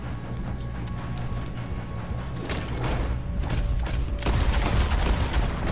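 Gunshots crack out in Red Dead Redemption 2 during a train robbery, several sharp reports scattered over a constant rumble of the moving train and clattering mechanisms.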